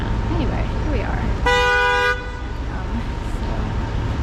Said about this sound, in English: did we need to honk the horn